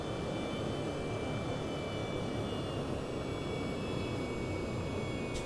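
F/A-18 jet engine throttled up in the flight simulator IL-2 1946 during carrier landing practice, a loud continuous roar with a steady whine running evenly throughout.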